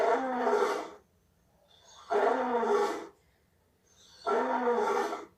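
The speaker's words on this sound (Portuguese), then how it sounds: "Esse animal é o leão. O leão. Viram como ele faz um barulhão?" A lion gives three long, rough roars at even intervals, each about a second long, with silence between them and no talking.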